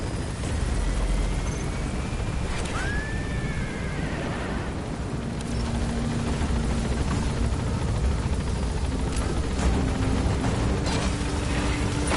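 A helicopter in the video game Metal Gear Solid V gains altitude with a loud, steady rotor and engine roar that fills the whole stretch, with a brief rising whistle early on.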